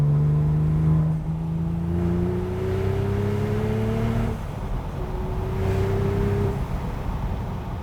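A tuned Porsche 911 Turbo with a 6-speed manual accelerates hard, its engine note climbing steadily through the revs, dropping briefly at a shift, then rising again, loud and close.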